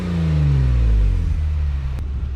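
Jeep Wrangler with the Stormtrooper package revving its exhaust, a loud deep engine roar that swells and then eases off, heard alone and close up.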